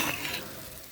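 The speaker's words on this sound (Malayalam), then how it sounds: "എല്ലാം കൂടി കൂട്ടി പച്ചമണം മാറുന്നേരം ഒന്ന് ഇളക്കാം" Chicken and jackfruit stir-fry sizzles in a pan while being stirred, a brief soft scrape and steady frying hiss heard up close, fading quickly.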